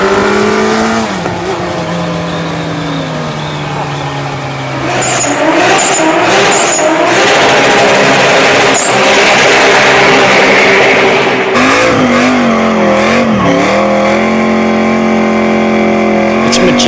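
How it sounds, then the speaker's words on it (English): A car drifting at about 40 miles an hour with both rear wheels broken loose, its engine roaring loud and close with shifting revs and bursts of tire squeal, smoke pouring off the back wheels. "break the wheels loose at about 40 miles an hour, both wheels."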